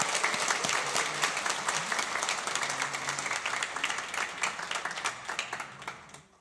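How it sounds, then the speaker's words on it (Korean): Church congregation applauding to welcome a young man, a full round of clapping that starts strong and gradually thins and fades toward the end. "우리 박수로 환영해 주시겠습니다"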